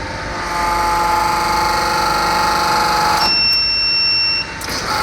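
Buzzer of an MHHC 2 hose crimping machine sounds as a loud, high steady tone, with a running motor hum that stops partway through.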